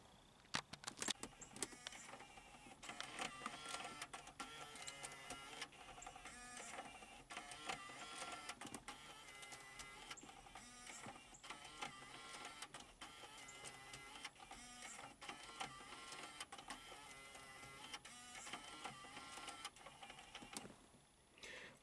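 A car's 6-disc CD changer mechanism whirs and clicks steadily with repeated mechanical motor and gear movements, close and continuous throughout, with no talk.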